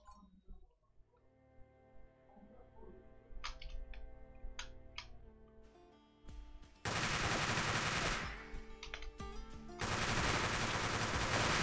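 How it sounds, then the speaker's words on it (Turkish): Automatic rifle fire in a zombie co-op shooter, GIBZ: scattered clicks and short pops build into loud, sustained bursts of rapid shots in the second half, close and harsh, with no one talking. "perklerden otomatik tüfek atışı"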